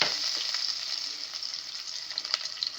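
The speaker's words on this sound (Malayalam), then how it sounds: "കടുക് പൊട്ടി വരുമ്പോഴത്തേക്ക് നമ്മളതിനകത്ത് വറ്റൽമുളക്, കറിവേപ്പില ഇതങ്ങോട്ട് ഇട്ട് കൊടുക്കാം." Dried red chillies and curry leaves fry with popping mustard seeds in hot oil for a rasam tempering. A close, steady hiss and crackle runs throughout with scattered small pops, and no one speaks.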